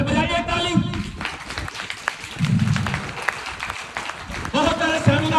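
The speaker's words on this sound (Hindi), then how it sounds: "तो फिर बजाइए ताली।" Seminar audience claps in a burst of scattered applause, moderately loud, while a voice talks over the start and end of it.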